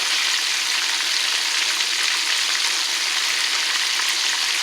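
Chicken drumettes fry in hot oil with a steady, dense sizzle that stays even and close throughout, with no voices.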